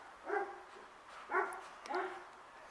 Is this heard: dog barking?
yes